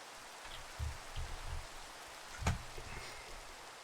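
Rain in the Minecraft SkyFactory 3 modpack falls as a steady soft hiss, joined by a few low thuds and one sharp tap, fairly quiet overall.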